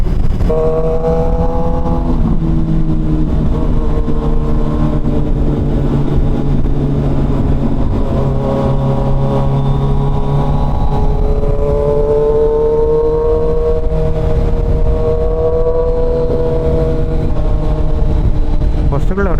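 Superbikes on the road, including a Kawasaki Z900 with a full Arrow exhaust system and a 2025 Hayabusa, give off a loud, steady engine drone that rises and falls in pitch while someone talks over it throughout.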